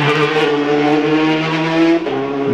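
A Peugeot 206 RC Group N rally car screams past on a special stage, its engine loud and sustained at high revs, with a sharp shift or lift near the end.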